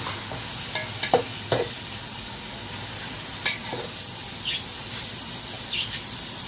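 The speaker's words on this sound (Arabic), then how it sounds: "الحين اقلب كل شيء مع بعض." Ingredients for a Kuwaiti chicken broth stirred in a pot over a steady sizzle, with a few sharp scrapes and knocks of the spoon at irregular intervals; no voices.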